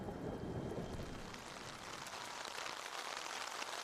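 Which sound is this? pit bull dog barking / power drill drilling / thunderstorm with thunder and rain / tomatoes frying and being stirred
thunderstorm with thunder and rain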